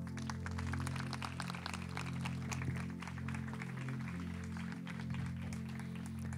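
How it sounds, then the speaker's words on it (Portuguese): Wedding ceremony guests clap in a steady, dense patter that runs throughout, fairly faint and set against sustained low musical tones. "Você pode aplaudir?"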